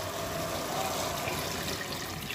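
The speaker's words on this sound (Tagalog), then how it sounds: "Dagdagan na lang natin ng tubig." Water pours into a simmering pot of chicken-feet tinola with liver and gizzard, a steady close splashing gush that runs the whole time.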